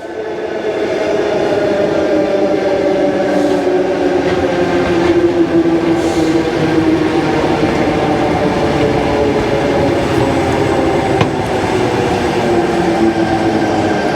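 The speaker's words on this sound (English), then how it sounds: "Here comes the train to the city." A commuter train arriving at a station in Chatswood, Sydney, rumbles steadily nearby for the whole stretch, with a low continuous roar of wheels on rails and faint metallic squeals, no voices.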